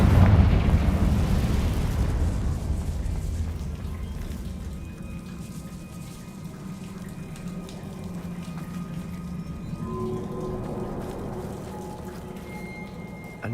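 A Confringo fire spell blasts a magical barrier in Hogwarts Legacy, a loud explosive boom that rolls off into a long, decaying rumble with faint tonal game sounds lingering underneath.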